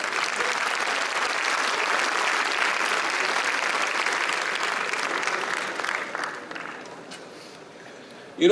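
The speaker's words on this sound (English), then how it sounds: "So you can clap for that." Audience applause at an inauguration event, a broad wash of clapping from many hands that stays even for about six seconds before tapering off, ending with a sudden loud bump.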